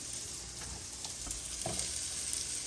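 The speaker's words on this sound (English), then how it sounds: "So I'm going to put in the onions and caramelize them." Onions and garlic caramelize in a pan with a soft, steady sizzle and faint stirring clicks, quiet and close.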